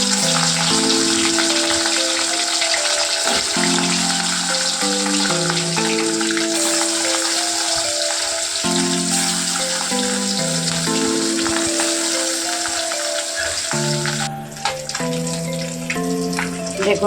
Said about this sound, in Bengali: আমি কড়াইতে তেল দিয়ে দিয়েছি, এবার মাছটাকে ভেজে নেব।